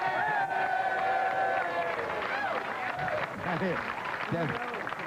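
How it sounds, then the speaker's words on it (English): Crowd cheering and clapping at a 1989 professional ten-pin bowling finals in Milwaukee, a sustained roar of applause and whoops with a commentator's voice talking over it. "And here you're going to hear a cheer."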